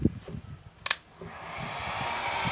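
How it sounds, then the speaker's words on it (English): A heat gun warms a dresser panel while it is being taken apart. A few clicks and a brief handling noise come first, then a steady blowing hiss that swells and continues, close by. "So I grab my heat gun, which I knew I should have done, and I start heating"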